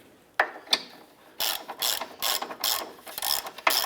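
A ratchet snugging down the forward mounting bolt of a front control arm on a 2011-2019 Ford Fiesta, with two isolated clicks followed by a rapid run of close, loud ratcheting bursts.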